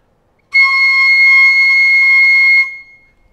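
A piccolo sounds one long, clear, high note played with a relaxed embouchure, steady and loud for about two seconds and then cut off, with nothing else audible around it.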